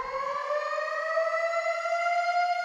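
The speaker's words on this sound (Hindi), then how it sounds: "तब सायरन बजने लगता है।" A wailing siren sounds over a village, one long steady rising and sustained tone that is loud and continuous throughout, with no voices.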